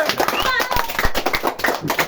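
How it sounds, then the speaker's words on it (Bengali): A prize-giving game show with a small crowd applauding a winner. Close, uneven hand claps patter throughout under children's and adults' chatter. "তো অলরেডি হয়ে গেছে, হাততালি হবে।"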